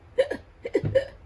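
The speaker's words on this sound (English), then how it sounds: "Jolie has the hiccups." A small dog with hiccups gives quick, faint, close hiccup sounds in a short burst of three or four soft jerky catches.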